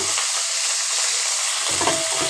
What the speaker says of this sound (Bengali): ব্রকোলিগুলোকে আগে ভেজে নিই